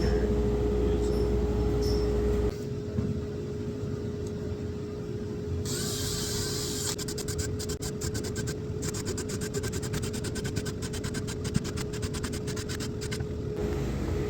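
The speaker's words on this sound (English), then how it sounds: "I just drilled 2 holes for every block to sit on, one at front and one at back." A power drill boring holes into veneer core plywood blocks in a workshop, a loud continuous whirring drone with a rapid rattling texture that runs for most of the clip.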